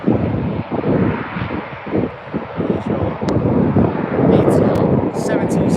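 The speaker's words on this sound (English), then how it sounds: "ATR 7600 Air Lingus on its way to Belfast now." An Aer Lingus ATR turboprop airliner at Birmingham airport rumbles with a broad engine drone, buffeted by gusts of wind on the microphone, while a voice talks over it.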